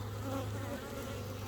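Honey bees buzz steadily at the hive during a spring inspection, a soft continuous drone with a low hum and no voices.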